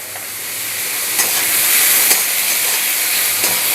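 Onions frying in a pan, salted with a little sugar, sizzling loudly and steadily up close with a continuous bright hiss and a few faint stirring clicks.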